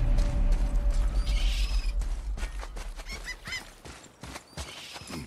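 A wheel axle mechanism is lifted in God of War (2018) on PS5, with heavy creaking and groaning wood and metal, a low rumble at first, then scattered clanks and squeaks, close and continuous.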